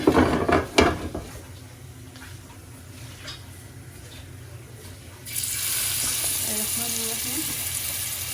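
Dried fish (shutki) goes into a pan in a home kitchen and starts to fry, with a steady broadband sizzle taking over after a few clattering knocks and a quieter stretch, then holding at a constant moderate level.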